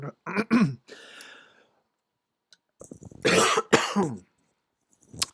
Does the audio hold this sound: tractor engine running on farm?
no